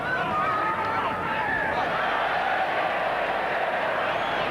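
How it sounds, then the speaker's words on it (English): A stadium crowd roars loudly and continuously throughout a 1996 ARL rugby league match between the Sydney Tigers and the Cronulla-Sutherland Sharks, with a commentator talking over the noise. "Roar from the crowd"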